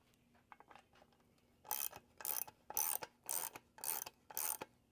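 A wrench ratchets in six short rasping bursts, close and fairly loud, while bolts are tightened on a Johnson 90HP outboard lower unit, with no talk.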